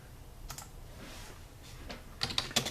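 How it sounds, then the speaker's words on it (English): Typing on a computer keyboard, soft scattered key clicks at first, then a quicker burst of sharper taps near the end, close and fairly quiet with no talk. "So I'm going to type this out."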